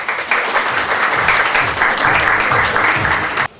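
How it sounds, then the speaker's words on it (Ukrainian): An audience at an exhibition opening applauds loudly and continuously, dense clapping that cuts off abruptly at the end. "давайте ми усі гарними гучними оплесками привітаємо винуватців"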